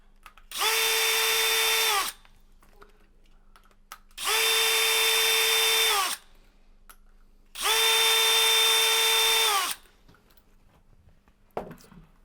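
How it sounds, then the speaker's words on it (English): An 18-volt cordless drill with an extended driver undoes the retaining bolts on an isolator valve housing, running in three steady whirring bursts of about two seconds each, separated by short quiet pauses. "first we'll use the extended driver in your 18-volt drill"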